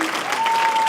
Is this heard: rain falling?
no